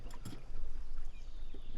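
Water rushing and trickling at a small stream channel near a waterfall at a headwater, a steady broadband wash with a few brief louder splashes near the start, close and continuous, with no voices.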